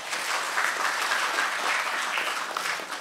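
Sustained audience applause at a Korean panel discussion, dense and steady clapping from a seated crowd lasting the full three seconds with no one speaking over it.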